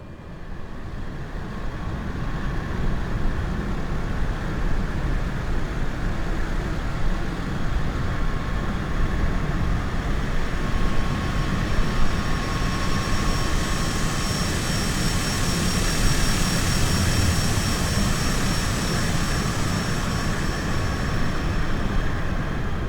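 A Black Square Analog Caravan turboprop spools up for takeoff on runway 18 in a flight simulator, a loud sustained engine roar with a rising high whine that grows stronger midway, steady and continuous without talking.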